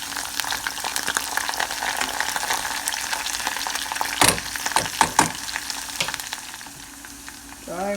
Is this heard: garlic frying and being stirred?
yes